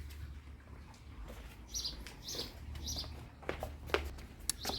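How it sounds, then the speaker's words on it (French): Small birds chirp in short, high tweets scattered over a quiet outdoor background, fairly faint and irregular. "Vous entendez les petits oiseaux."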